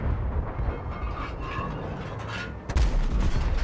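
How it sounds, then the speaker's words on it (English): A KV-1 tank cannon in World of Tanks fires a HEAT shell, a heavy, loud boom near the end that follows a low rumbling engine drone. "So let me take one more shot with heat."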